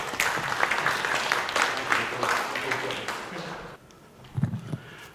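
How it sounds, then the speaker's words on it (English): Audience applause fills a conference keynote hall at TOC Asia 2022, a steady roar of many hands clapping that fades out, followed by a few scattered claps. "So please, a round of applause for them."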